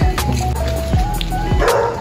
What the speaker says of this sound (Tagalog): may aso pang natahol